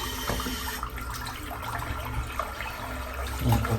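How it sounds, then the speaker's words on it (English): Tap water runs in a shower while someone wets their head, a soft steady splashing flow with occasional louder splashes, fairly faint and close. "Let's wet my head, just have a bit of a feel."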